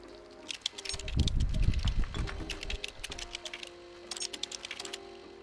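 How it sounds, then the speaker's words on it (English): Game audio from Stray as a cat steps on a computer keyboard, quick uneven key clicks in two bursts with a low thumping rumble between them, all over quiet background music. "I've done typing."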